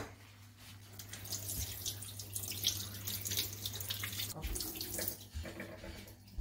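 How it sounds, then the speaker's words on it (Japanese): Gutted Japanese wrasse being rinsed under running tap water in a sink, a soft continuous splashing stream with small shifts as the fish moves under the flow. "内臓が取れたので水で洗います。"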